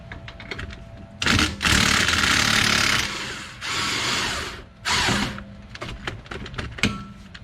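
Power tool bursts loosening the strut nut on a 2013-2016 Honda Accord front suspension, several loud whirring runs of one to two seconds each with short pauses, surrounded by clicks and clatter of hand tools.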